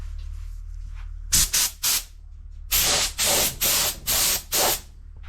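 A spray gun lays a misty first coat of paint in short hissing bursts: three quick blasts, a pause, then five longer even sprays, close and alone.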